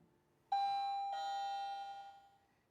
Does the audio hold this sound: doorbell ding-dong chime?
yes